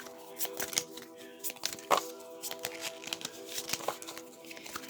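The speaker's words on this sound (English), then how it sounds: "I'll just do one more shuffle." Cards riffle and flutter in quick crisp bursts, a soft papery shuffling with small snaps, close by and fairly quiet.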